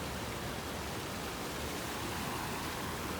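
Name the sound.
rushing water of mountain stream and waterfall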